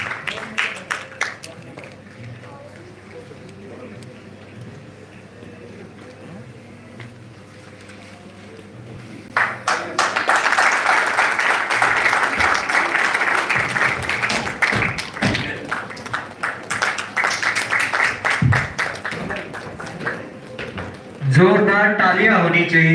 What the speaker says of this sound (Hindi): तालियों की गूंज सुनाई देनी चाहिए।